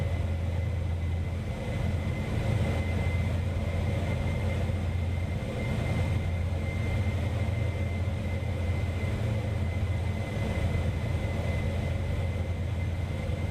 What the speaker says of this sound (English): Engine sounds pretty good. At least you can hear the low rumble every once in a while.